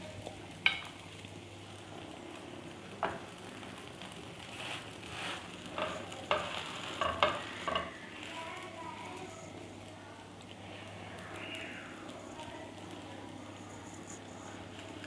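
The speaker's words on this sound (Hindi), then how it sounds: "ये इसी पैन में अब मैं ये गरम कर लूँगी अपने बंद।" Burger buns warm in a frying pan, giving a low, steady sizzle with scattered clinks and scraping as they are moved around the pan.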